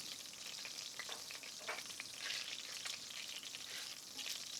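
Whole spices fry and crackle in a pot for a pigeon curry, a steady bright sizzle with occasional louder pops and a few scraping stirs, close and continuous with no talking.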